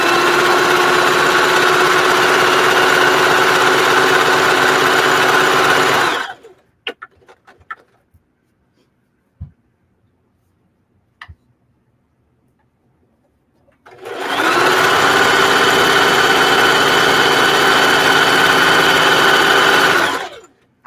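Ruffle socks are stitched on a sewing machine along a serged edge, two loud steady whirring runs of about six seconds each, separated by a quiet stretch with small clicks and handling sounds.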